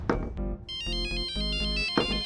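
A melodic electronic phone ringtone plays continuously, a repeating bright tune of several tones, loud and close, with a brief knock or thump near the start.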